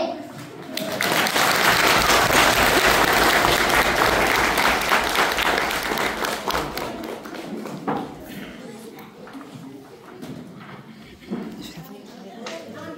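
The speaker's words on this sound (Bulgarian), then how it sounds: "Вашите аплодисменти!" Loud, dense applause fills a school hall as an audience cheers the opening of a first-grade alphabet celebration, swelling strongly for several seconds, then thinning into scattered claps and crowd murmur.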